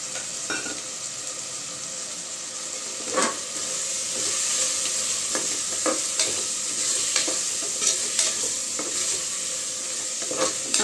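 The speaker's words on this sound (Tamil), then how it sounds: "நல்லா கொஞ்சம் நேரம் கலந்து விட்டுக்கலாங்க" Chicken biryani masala with curd is stirred in a pot over heat. A soft, steady sizzle runs throughout, broken by repeated scraping strokes of the spoon at a fairly regular pace, with no voices.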